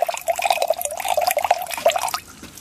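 Rainwater trickles and splashes steadily out of a small slow sand filter, a continuous close pouring and dripping stream that stops near the end.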